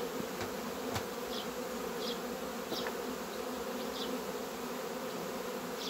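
Honey bees buzzing from an opened hive, a colony whose frames had gone undisturbed for six months: a dense, steady drone close by, with individual bees zipping past the hum, no talking over it.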